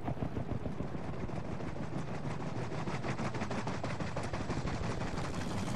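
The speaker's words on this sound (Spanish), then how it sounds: "Mira, viene un helicóptero. El helicóptero ahí, míralo." Helicopter in the video game Battlefield V Firestorm, a dense, steady rotor roar with rapid chopping pulses filling the whole stretch, with no talk over it.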